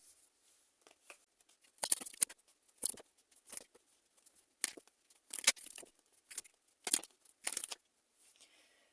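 Tarot cards drawn and handled during a reading: a series of short, close, crisp slides and flicks in irregular bursts, separated by quiet gaps.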